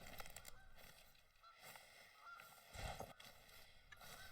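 Geese honk in the TheHunter: Call of the Wild hunting game, with several distant calls rising over soft outdoor ambience and one louder burst of honking near the end.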